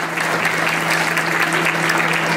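Audience applause at a school event, dense steady clapping from many hands close by, sustained without a break.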